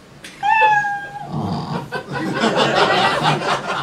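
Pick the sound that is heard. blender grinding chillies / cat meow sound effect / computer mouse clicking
cat meow sound effect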